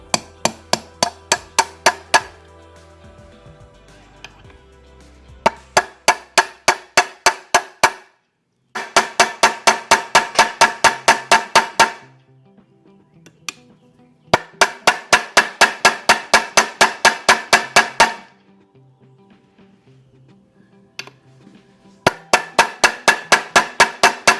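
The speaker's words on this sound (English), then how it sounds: "Let's give it a little persuasion with the hammer." Rapid bursts of loud metallic hammer blows on a Kawasaki Mule 500 engine part, struck in quick runs of a dozen or so hits separated by brief pauses, ringing sharply close by.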